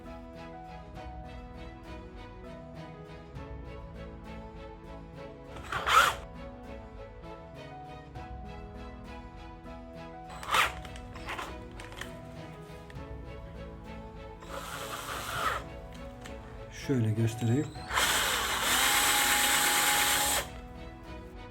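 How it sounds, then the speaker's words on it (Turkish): A power drill with an 8 mm bit whirs in short bursts, then runs steadily loud at the end, with brief quiet speech and tool handling between. "8 milim matkap ucuyla da içine bir delik açtık"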